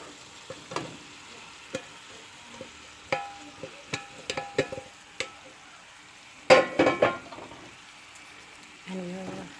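Ackee goes into a pan of frying saltfish and vegetables and is stirred, with scattered spoon clicks and scrapes, a brief cluster of louder clatters, and a light sizzle between them.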